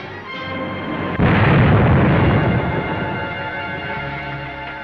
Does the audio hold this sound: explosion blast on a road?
yes